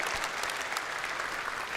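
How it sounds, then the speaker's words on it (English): Sustained applause from a convention audience, a steady dense patter of many hands clapping at once, filling the whole stretch without a break. "that deserves some applause"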